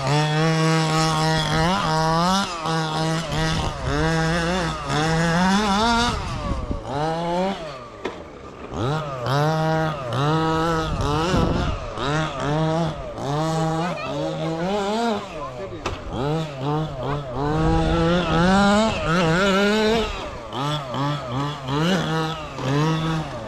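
Nitro-fuelled FG Marder 1/6 scale RC car with a Cox Baja engine, still being run in, on a circuit, its small two-stroke engine buzzing and screaming through repeated rising revs and brief lifts, loud and close for the whole stretch.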